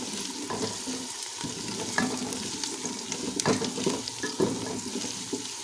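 Onions frying until brown for matar dal hiss steadily up close, while a spoon stirs and scrapes the pan in irregular knocks and clinks, with no speech.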